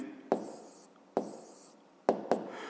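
A pen scratches on paper as a math answer is written down, in four short strokes: two spaced apart, then two quick ones close together near the end, soft and close.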